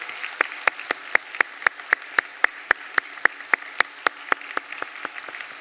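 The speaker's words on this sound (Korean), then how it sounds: "우리 수요 찬양대 격려 박수 한번 하겠습니다" A church congregation claps in encouragement for the Wednesday choir at a midweek worship service, a steady run of about twenty sharp, evenly spaced claps standing out clearly over a quiet room.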